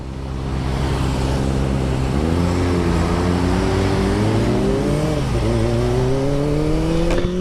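Kawasaki ZX25R motorcycle engine fitted with a DX Generation aftermarket exhaust, a loud steady high-pitched inline-four drone that rises and dips with small throttle changes, close and continuous throughout.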